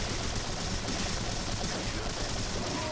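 Rapid gunfire from the action game Onechanbara: Bikini Samurai Squad, a dense continuous burst of shots running steadily for the full stretch, loud and unbroken, with a faint voice beneath.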